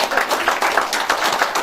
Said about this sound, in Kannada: ಸೊ ಎಲ್ಲರೂ ಜೋರಾಗಿ ಚಪ್ಪಾಳೆ ಹೊಡ್ತಾರೆ.